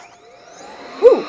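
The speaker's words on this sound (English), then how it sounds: "it sounds like a traditional vacuum" A window cleaning robot vacuum runs pressed against a window, making a steady whining suction hum that rises in pitch. A short voiced exclamation cuts in near the end.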